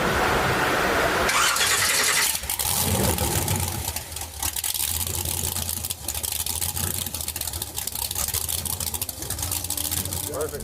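A 496 big block Chevy V8 in a 1975 John Deere tractor cranks and fires, then settles into a loud, rough, lumpy idle heard close up.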